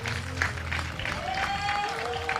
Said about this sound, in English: give a warm applause to all the archers